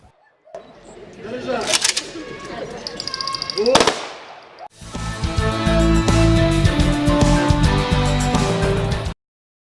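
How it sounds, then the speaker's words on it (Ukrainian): Three sharp, loud ceremonial salute shots crack out over crowd murmur at a Victory Day commemoration, then band music starts up and plays steadily. "На завершення пролунали три традиційні постріли"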